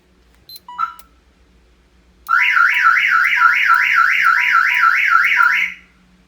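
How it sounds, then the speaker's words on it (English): A freshly installed aftermarket alarm sounds off on an LS-swapped car, a loud, steady warbling siren rising and falling in rapid cycles for about three seconds after a couple of short chirps, with no talk over it. "alarm's on"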